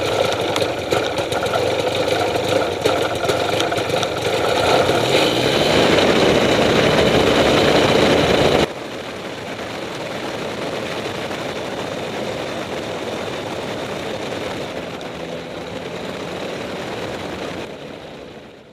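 An ultralight aircraft's engine idles while taxiing, a steady buzzing drone close by that drops abruptly to a quieter, rougher putter partway through and continues to the end.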